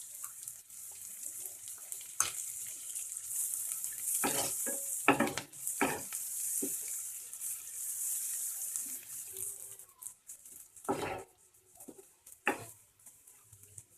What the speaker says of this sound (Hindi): अब इसमें मैं शिमला मिर्च डाल दूंगी।